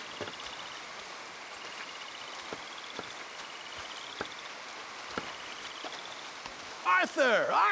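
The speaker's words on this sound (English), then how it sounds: "Come on, it's raining." Steady rain falls in Red Dead Redemption 2, a continuous close patter with scattered sharper drops throughout, and a brief louder swishing sound near the end.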